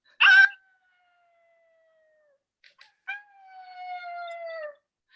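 A lone dog barks once sharply, then after a silence gives a long, drawn-out howl that wavers and fades; nearby, clear, with no talking.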